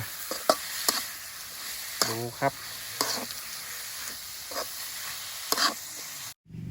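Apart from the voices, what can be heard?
stir-frying eel meat in a pan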